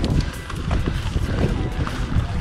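Wind sweeps across the Soublan plateau on a hilltop, buffeting the microphone in a continuous low, gusty roar with no pauses.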